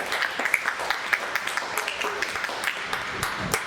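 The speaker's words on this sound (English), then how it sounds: "Another round of applause." Scattered clapping from a small audience, uneven and moderately loud, with individual claps standing out rather than a dense roar.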